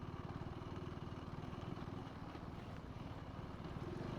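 A KTM 390X motorcycle rides over a rough, broken road, its engine drone steady and close with a dense rattling chatter running throughout, no one talking over it.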